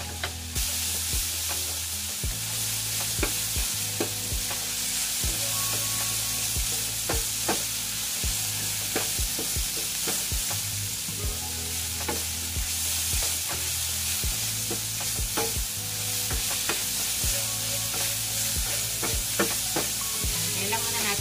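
Sauteed carrots and cashew nuts stirred in a pan, a loud continuous sizzle broken by repeated scraping and clacking of the utensil, close up and without talk.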